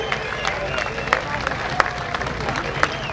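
Audience applause at a comedy awards ceremony, a steady wash of clapping with scattered sharper claps, crowd murmur and faint voices mixed underneath.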